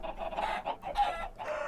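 Minecraft chickens cluck in an underground chicken farm, a few short clucking calls close together, faint and alone.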